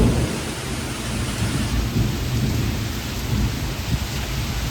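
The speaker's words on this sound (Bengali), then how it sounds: "কি জোর ঝড় উঠেছে" A strong thunderstorm with heavy rain, a dense, loud, continuous roar of downpour with deep rolling thunder underneath, close and steady throughout, with no voices.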